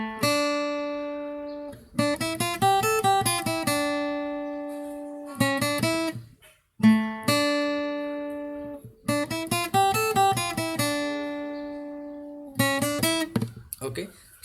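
A lead guitar plays the Ganesh Aarti intro phrase, a repeated pattern of quick picked melodic runs and held ringing notes with short gaps, clear and close at moderate volume.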